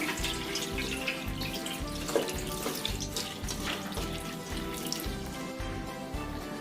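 Poha being rinsed under running water, a soft trickling and splashing with gentle dripping, steady and fairly quiet, close up, no one speaking.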